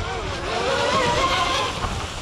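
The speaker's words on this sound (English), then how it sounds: "it's twin motors on it. Two 6S motors." Twin 6S brushless motors on a 36-inch Miss GEICO Zelos RC catamaran race boat scream at speed, a loud continuous high-pitched whine with wavering pitch, close and sustained.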